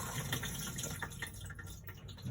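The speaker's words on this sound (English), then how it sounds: "press the flush." Cassette toilet flushing in a Burstner Harmony T625 motorhome, water rushing and trickling into the bowl from the pump at close range, steady for a couple of seconds with no talk over it.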